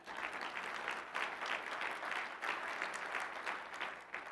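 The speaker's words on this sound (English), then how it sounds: "clap your hands." Audience applause at a university community breakfast in Boston, a quiet, distant patter of clapping that swells and eases in rhythmic waves over several seconds.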